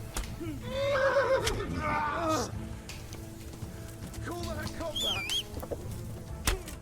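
A horse in the medieval video game Kingdom Come gives a loud, wavering whinny near the start, followed by snorts and scattered hoof and rustling noises, with faint background ambience.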